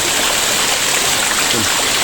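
A small waterfall stream pours beneath a bridge at a scenic viewpoint, producing a loud, steady broadband rush of water close by with no talking.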